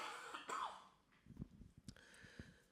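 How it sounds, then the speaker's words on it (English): A few quiet, rough coughs and throat-clearing sounds, close and isolated, with short pauses between them. "I gotta cough again."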